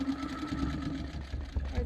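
Longarm quilting sewing machine stitching in the ditch on a quilt, a fast steady mechanical whir with needle hum, fairly faint, with a few soft knocks near the end.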